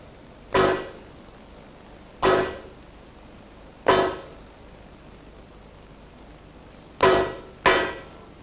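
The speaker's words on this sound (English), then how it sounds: "the reverse idler gear shaft, which can be driven out of the housing using a piece of hardwood and a mallet" A mallet strikes a piece of hardwood to drive a reverse idler gear shaft out of a Ford transaxle housing. Five sharp, ringing knocks come at uneven intervals, and the last two fall close together.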